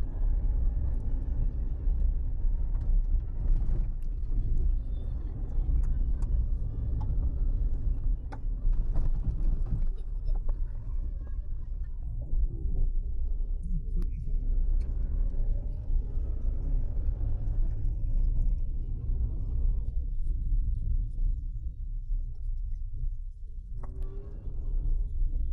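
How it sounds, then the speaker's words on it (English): A Suzuki Jimny drives over a bad, bumpy road, heard from inside as a constant heavy low rumble with rattles and jolts from the rough surface and a roar of motion noise throughout. "The road is really bad. As you can see, the vehicle is jumping up and down, but it's okay."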